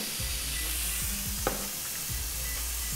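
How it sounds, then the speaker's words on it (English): Steady, close sizzling of food frying in a pan, a constant crackling hiss with one small clink partway through. "I'm just going to turn the flame off and let these continue to sizzle."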